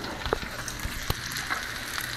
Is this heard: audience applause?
no